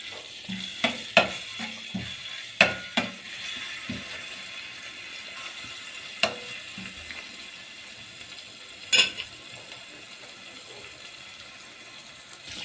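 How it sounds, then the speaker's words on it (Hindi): Green chili, garlic and ginger fry in oil for a pasta dish, giving a soft, low sizzle broken by sharp clicks and taps as a utensil stirs the pan at irregular moments; no voices. "वो हम इसके अंदर ऐड करेंगे और थोड़ा सा इसे अच्छे से मिक्स करके पका लेंगे"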